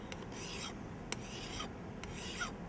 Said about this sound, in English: So this bit that I'm sharpening is called a star drill.